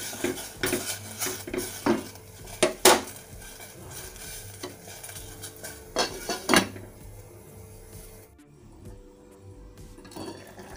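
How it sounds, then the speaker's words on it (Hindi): Ginger, garlic, onion and tomato go into a pot of water as a run of close clattering knocks and scrapes of utensil against pot, loud at first, then settling into a quieter bubbling background. "अब इसमें हम ये अदरक लहसुन प्याज और टमाटर डाल देते हैं।"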